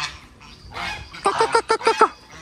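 Geese on a bird farm beside a pond honk in a quick run of about six loud, close calls, with wing flapping and a few faint murmurs before the burst.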